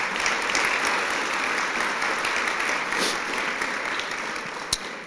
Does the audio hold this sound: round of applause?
yes